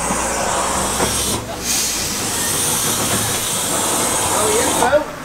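A preserved Foden steam engine at a Boxing Day outdoor steam meeting gives off a loud, continuous hiss of steam, with faint voices in the background.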